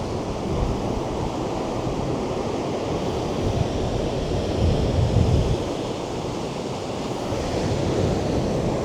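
Strong storm wind off Lake Erie roars steadily across the microphone while waves wash and churn continuously underneath, with no voices.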